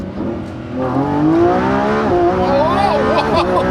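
A Lamborghini Revuelto engine revs and climbs in pitch as it accelerates, loud and close, with a brief voice near the start.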